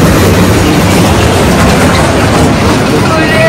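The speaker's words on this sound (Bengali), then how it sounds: "এই দেখেন ট্রেন যাচ্ছে" A train rushes past close by, loud continuous rumble and wheel clatter filling the whole stretch at a village spot.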